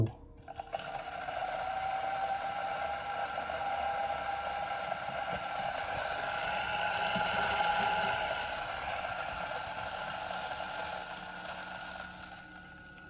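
A Timemore Sculptor coffee grinder grinds a 20-gram dose of beans at 1000 rpm. It makes a steady, loud mechanical whir that runs continuously for about twelve seconds, with no talking over it.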